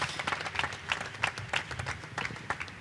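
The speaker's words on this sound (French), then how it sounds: "On applaudit le pasteur." A church audience applauds the pastor at a youth event: dense, steady clapping from a crowd, fairly close, with a few individual claps standing out. No one speaks.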